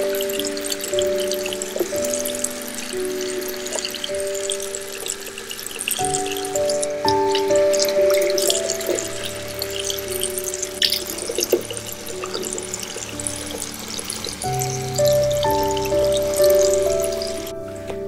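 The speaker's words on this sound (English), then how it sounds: "now I'm gonna wash the mask off because I can't really move my face" Tap water runs steadily into a sink while a dried face mask is rinsed off, with a continuous close splashing and trickling that shifts now and then as hands move through the stream, and no voices.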